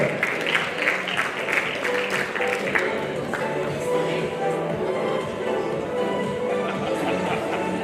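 Applause for veteran men's Nordic walking award winners at the Galician Mountaineering Federation gala, with dense clapping for the first few seconds that then thins into a softer room murmur.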